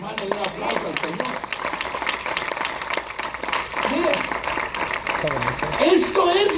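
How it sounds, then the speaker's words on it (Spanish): Church congregation applauding during a Spanish-language evangelical sermon, steady crowd clapping mixed with shouting voices and a preacher talking over it, swelling louder toward the end. "Y un aplauso al Señor."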